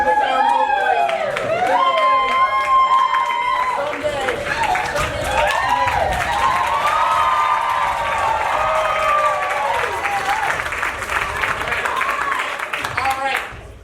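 Audience applause and cheering at a high school improv comedy match between seniors and alumni, a loud, dense crowd roar sustained throughout with whoops rising over it and voices talking along underneath.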